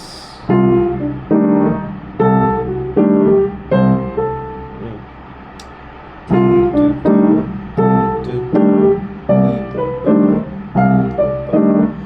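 Piano plays a sequence of minor triads in a bouncing stride-style bass-then-chord rhythm, pausing briefly midway before continuing; clear and close with no voices.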